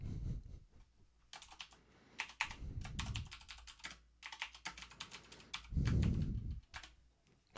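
Bursts of rapid computer keyboard typing, close and crisp, arriving in several separate flurries with short pauses between them, and no one speaking.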